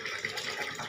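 An old indoor hand water pump gives off a squeaky, whining sound as water gushes and splashes out, close and steady for a moment.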